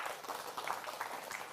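Audience applause at an Islamic sermon, a dense, steady patter of many hands clapping that sounds somewhat distant and soft throughout.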